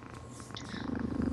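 A person imitates a cat's purr with a low, rhythmic rumbling voice that grows slightly louder over its brief span, close to the microphone.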